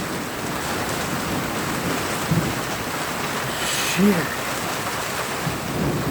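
Heavy rain pours down steadily during a thunderstorm, a dense hiss with a low rumble of thunder rolling in the background, and a voice briefly exclaims once.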